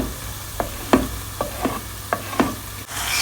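Onions and grated tomato frying in a pan, with a soft sizzle under about six separate spatula taps. A louder hiss swells near the end, heard close with no one talking.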